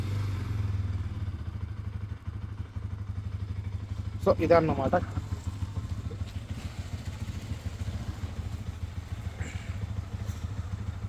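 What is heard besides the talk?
Bajaj Pulsar NS200 motorcycle engine running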